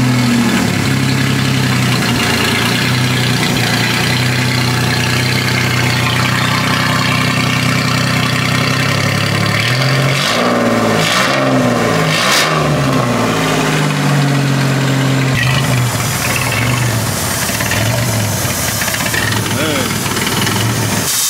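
A cheaply turbocharged Ford F150 engine runs steady and loud close by, then revs in several rising surges midway. Its exhaust has a leaking V-band clamp, and people talk over the engine.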